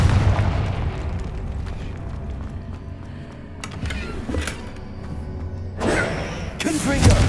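Confringo explosion spell in the video game Hogwarts Legacy bursts in a few booming blasts amid continuous rumbling battle effects, loud and close, with a brief sharper burst near the end.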